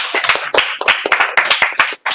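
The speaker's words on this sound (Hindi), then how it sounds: "एक बार ताली बजाइए आप लोग।" An audience clapping in a classroom-style gathering, a short burst of quick, fairly close hand claps with uneven rhythm that briefly drops out near the end.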